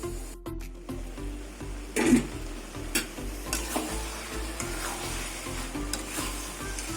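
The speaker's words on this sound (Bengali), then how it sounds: "এবার ঢেকে ঢেকে কিছুক্ষণ কষিয়ে নেব" Cauliflower and pea ghugni sizzles steadily in a pan while being sautéed, with scraping stir strokes and a few sharper clatters, close and fairly soft.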